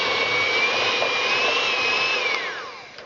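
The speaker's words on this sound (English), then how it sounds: "So whisk the two together, and slowly they'll start to all come together into buttercream" Electric whisk beating chocolate buttercream, a steady close high-pitched motor whine that holds evenly, then drops in pitch as the whisk slows near the end.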